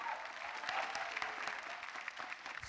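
Studio audience applauding at a televised stand-up comedy competition, a dense, steady wash of clapping that holds at moderate level throughout with no voices on top.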